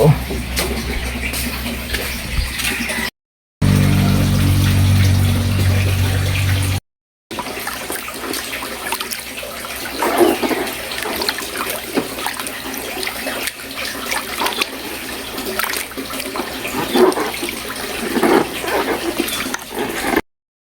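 Hot water runs from a tap indoors, a steady close rushing stream with brief cuts, while people talk over parts of it.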